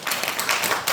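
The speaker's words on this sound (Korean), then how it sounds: "우리 서경석 목사님한테 박수를 한번 응원해 주시자고요." An audience at a Korean civic economic-revival launch rally claps, with dense overlapping hand claps forming a steady burst of applause across the short span.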